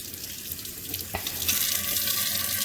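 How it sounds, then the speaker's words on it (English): Running tap water pours into a sink as homemade butter is rinsed under it, making a continuous close splashing hiss that grows slightly fuller halfway through. "Rinse it out nice and good."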